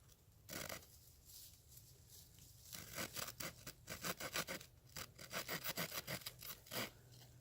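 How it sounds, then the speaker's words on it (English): A small Victorinox Farmer pocketknife saw cuts a notch into a wooden bow-drill hearthboard: a faint rub at first, then a fast run of short rasping strokes, close and fairly steady, with brief pauses between bursts. "I really like using it for my hearthboard notches"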